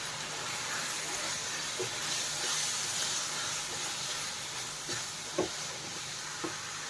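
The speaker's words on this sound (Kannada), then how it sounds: "ಈಗ ಫ್ರೈ ಮಾಡೋಣ." Chicken frying in a pan with coriander and chilli powder, a steady soft hiss and sizzle running throughout with a few faint clicks and taps.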